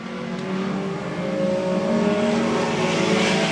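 Sport compact Thunderstock race cars at Evans Mills Raceway Park drone around the track in a sustained engine roar that builds slightly louder as they approach, heard from trackside at moderate distance.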